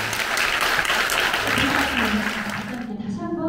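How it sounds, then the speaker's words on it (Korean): An audience at a Korean public event applauds after a speech of thanks, steady clapping that tapers off toward the end as a voice begins talking over it. "다시 한번 박수 부탁드립니다."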